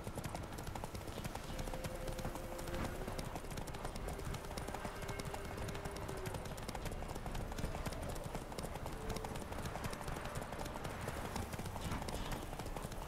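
Horse galloping in the video game The Witcher 3: Wild Hunt, a steady, continuous clip-clop of hooves over about thirteen seconds, dense and fairly loud, with other game ambience mixed in.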